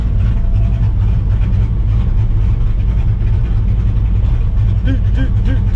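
A 600-horsepower 2-valve Ford Mustang GT engine, with a faulty wideband oxygen sensor, rumbles loudly and continuously at close range, a heavy idle with slight rises in pitch.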